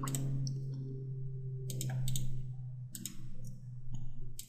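Computer keyboard typing as a registration code is entered during software setup, heard as irregular bursts of sharp, close clicks over a steady low hum.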